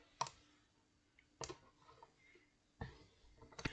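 Computer mouse clicks at a desk while working in CATIA V5 software: four sharp, close clicks spaced irregularly over a few seconds in near-quiet.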